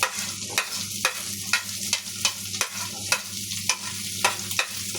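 Sliced onions fry in a pan with crushed garlic and ginger for a mutton pepper roast, a low steady sizzle broken by regular scraping strokes of a spatula, roughly two per second, close and moderately loud with no voices.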